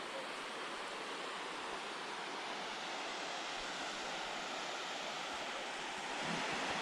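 Water pours steadily over a small dam above a parking lot on a Mount Seymour lake hike near Vancouver, a continuous broadband rush that stays close and even throughout, with no voices and only a slight swell near the end.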